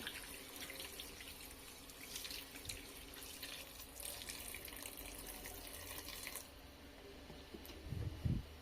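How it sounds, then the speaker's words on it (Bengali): Water is poured over fish in a pan, a faint steady trickle and splash of running liquid lasting several seconds, ending with a few soft knocks. "এরপর এটাকে পানি দিয়ে দেব।"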